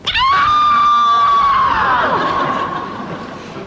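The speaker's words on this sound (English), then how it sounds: "they heard the scream" A single piercing scream, loud and sustained at a high pitch, then dropping and trailing off into a noisy wash.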